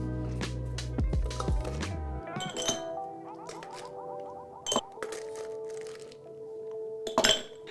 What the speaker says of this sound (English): First thing we're gonna do is add some ice.